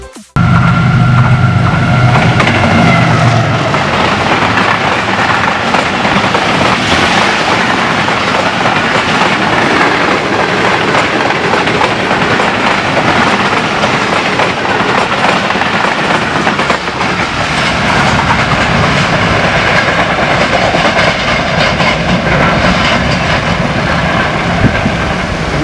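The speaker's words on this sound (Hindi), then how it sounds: "इसी के साथ हमारे आज के पहले एक्शन 15 अप कराची एक्सप्रेस का टाइम हुआ, जिसकी लीड पर GU40 लोकोमोटिव था।" Pakistani 15 Up Karachi Express hauled by a GU40 diesel locomotive passing near Kahna Kacha station outside Lahore: a loud, sustained rumble and engine roar with steady clickety-clack of wagons over rail joints, close and continuous throughout.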